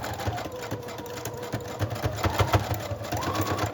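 Sewing machine running a zigzag stitch on lace trim, a fast, steady mechanical chatter of needle strokes at close range, continuous for a few seconds.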